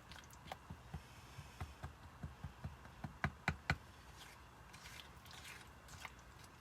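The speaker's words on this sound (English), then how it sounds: "I'm grabbing just a stir stick and giving this a real good stir." A stir stick stirs chalk paste inside a jar, making a quiet series of clicking, tapping knocks against the glass. The knocks come at a steady, uneven rhythm, and a few sharper ones stand out midway.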